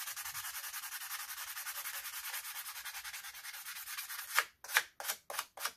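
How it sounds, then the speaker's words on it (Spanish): Rapid back-and-forth rasping of sandpaper on a hard pool cue tip, steady and close, ending in a few slower, separate strokes. "ahora le vamos a quitar todo ese brillo con la lija."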